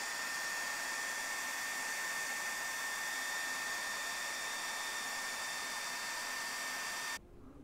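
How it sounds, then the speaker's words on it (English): A hairdryer aimed upward, holding a ping pong ball in its air stream, blows with a steady, loud whooshing hum throughout, cutting off abruptly near the end. "What will happen if I aim the hairdryer up and place the ping pong ball in the stream"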